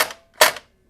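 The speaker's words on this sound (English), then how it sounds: "That's the sound of a piston failure." Two sharp, close cracking bursts from a P90 airsoft gun with a Perun mosfet as its piston fails, a snap followed by a louder one a moment later, then silence.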